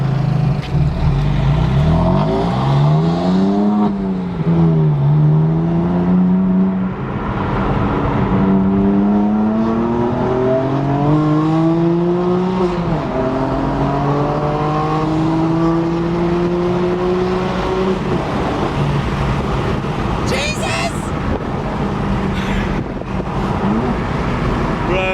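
A BMW M4 with a straight pipe exhaust accelerates hard through several gears, a loud, raspy engine note climbing in pitch and dropping at each shift, heard from inside the car with steady road roar beneath.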